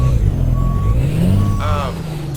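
A truck engine rumbles continuously in American Truck Simulator, with faint intermittent reversing beeps and a short hiss like an air brake near the end.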